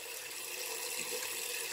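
A tap runs into a sink to heat water for a shave, a faint steady hiss of flowing water heard alone for under two seconds.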